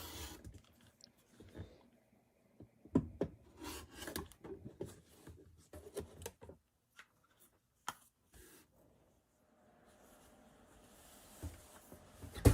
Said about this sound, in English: here you can see I'm just trimming it to a perfect 2-inch square